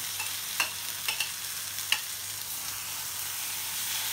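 Mustard paste, poppy seeds and green chilli frying in a pan, a soft continuous sizzle with a few sharp spoon taps and stirring scrapes, close and quiet with no talking.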